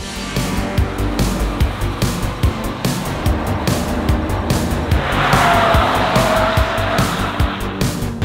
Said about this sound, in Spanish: le he cogido las llaves al coche de mi madre y voy a darme una vuelta